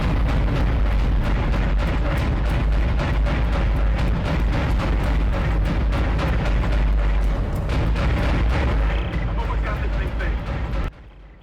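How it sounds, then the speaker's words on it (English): Heavy booming cannon fire from a mass driver turret in the Dead Space video game, a dense continuous barrage of loud blasts and rumbling impacts lasting about eleven seconds before cutting off abruptly. "The cannon's a mass driver,"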